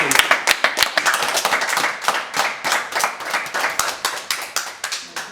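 An audience claps at a comedy show, loud, close individual claps in a quick uneven rhythm that settle into a steadier beat toward the end.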